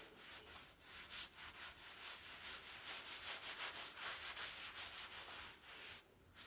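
Steady rubbing and buffing sweeps across a woodstove as polish is wiped off, close and rhythmic, with brisk repeated strokes, then a short pause near the end.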